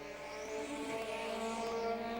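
Ministock race cars run in a five-car heat on a track, their engines droning steadily at a distance with layered harmonic whine and no talk over it.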